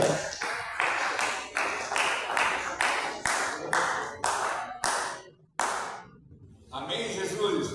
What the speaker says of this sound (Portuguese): faça palma bem alegre para Jesus